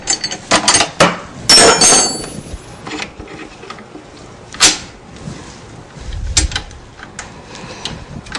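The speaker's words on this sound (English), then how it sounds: "remove one bit, put the other one in, tighten the collet" A Shopsmith SS103 overarm router gets a bit swap and a collet tightening: sharp metallic clinks, scrapes and taps ring out close by in irregular bursts, with a quieter dull thump near the end.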